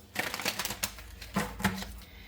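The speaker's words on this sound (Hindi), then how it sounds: "तो मैं आप लोगों के लिए कार्ड्स ना अच्छे से निकाल लेती हूँ" Tarot cards are handled and drawn in quick bursts of papery flicks and taps, close and fairly soft, with short pauses between.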